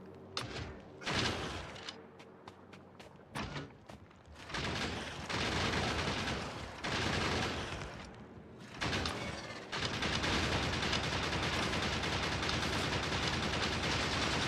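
Dense, loud turret gunfire in Factorio, rapid bursts and continuous rattling fire with brief gaps early on, then a sustained barrage over the last several seconds.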